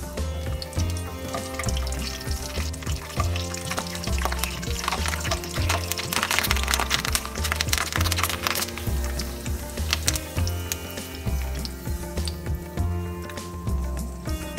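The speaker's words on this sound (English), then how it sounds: "Let's fry some curry leaves." Curry leaves sizzle and crackle in hot oil, a continuous frying hiss with soft background music underneath, fried as a garnish for soya 65.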